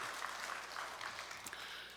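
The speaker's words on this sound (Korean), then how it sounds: "우리 찬양 받으신 주님께 영광의 박수" A church congregation at a Sunday worship service applauds in praise, a faint, steady wash of clapping heard from a distance, with no distinct individual claps.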